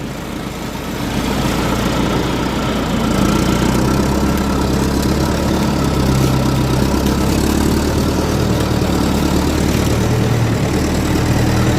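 A log winch engine runs steadily throughout, a loud, constant mid-to-low mechanical drone with no talk over it.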